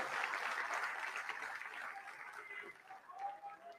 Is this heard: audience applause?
yes